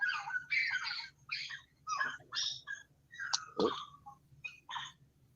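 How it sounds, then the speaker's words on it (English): Several dogs bark, yip and whimper close by in a steady run of short overlapping calls and whines, moderately loud with no talk over them. "Sorry about all them dogs."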